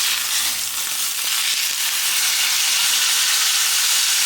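A steak sears in a hot pan, a steady loud sizzle and hiss running throughout with faint bumps as the meat is moved; no talking.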